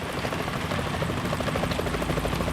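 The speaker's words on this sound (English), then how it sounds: "Is that a chopper I just heard?" A helicopter in the video game Metal Gear Solid 2 thrums with a steady rotor chop, close and continuous, with no voices.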